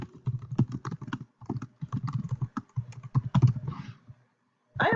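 Fingers type on a computer keyboard in quick, close bursts of clicking keys with brief pauses, ending in a short louder clatter.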